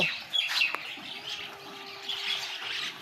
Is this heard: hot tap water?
no